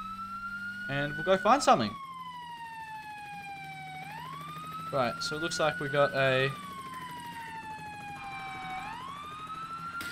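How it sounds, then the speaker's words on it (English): A fire truck siren wails in the Roblox game ERLC, its rising and falling tone sweeping in long, steady cycles throughout, while someone talks over it in short bursts. "So, turn our siren on."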